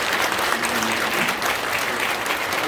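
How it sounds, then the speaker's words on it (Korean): Congregation at a church's 45th-anniversary ordination service applauds the newly installed elders, a loud, dense wash of clapping that holds steady throughout with no voices on top. "인사하고 들어가실 때 큰 박수를 주고 계시기 바랍니다."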